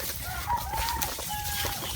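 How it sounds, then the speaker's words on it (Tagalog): Birds call in a forest with thin, high whistled notes over a rough, steady outdoor background, and some clucking like a chicken is mixed in. "Maraming ibon dito."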